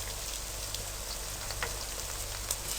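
Ginger and fresh peas frying in a fish curry masala, giving a steady, close sizzle with a soft crackling hiss throughout and no talking.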